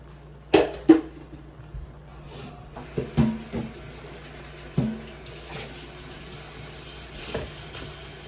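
Water runs from a kitchen tap into a measuring cup while taco fixings cook, a soft steady stream punctuated by a few clunks and knocks of cookware nearby.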